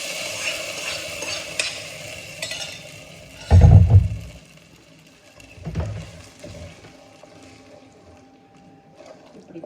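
Tempering spices for varagu rice pongal hit a hot pan with a sudden loud sizzle and a stirring clatter. A second, softer burst follows, then quiet stirring and faint clinks.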